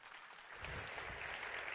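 A conference audience at a São Paulo cocktail-industry talk breaks into applause for the speaker Néli Pereira, a soft, steady wash of clapping that swells about halfway through and carries on.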